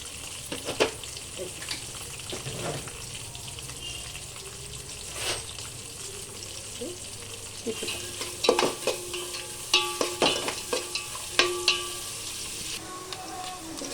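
Cashews and a bay leaf frying in a pan for chicken palav, a steady soft sizzle with occasional stirring scrapes and clinks, louder spoon knocks toward the end, no talking.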